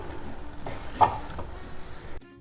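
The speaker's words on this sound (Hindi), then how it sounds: "गोभी हमारी पक रही है।" Cauliflower and chicken cooking in a pan for gobhi gosht, with a soft steady sizzle and a few scraping stirs, one sharper knock near the middle, fading out at the end.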